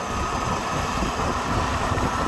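A fishing boat engine runs with a steady, dense low mechanical rumble and vibration, close and continuous across the brief span with no talking.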